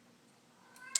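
A house cat lets out a single short, faint meow at the very end, after a quiet indoor stretch with only low background hum.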